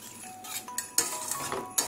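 A utensil scrapes and clinks against a pan while milk is stirred into an eggplant curry, with a few quick close taps and stirring sounds and no talking.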